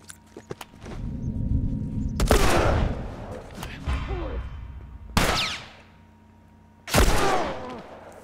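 Gunshots in the video game The Last of Us Remastered, three loud sharp blasts spaced a few seconds apart, each followed by echoing decay and scattered clatter.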